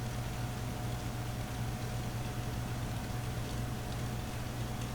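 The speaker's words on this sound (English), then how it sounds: "the sound that this generator makes modded" A settlement generator in Fallout 4, softened by the Quieter Settlements mod, gives a steady, faint low hum with a thin higher tone above it. The drone is unbroken and nobody speaks.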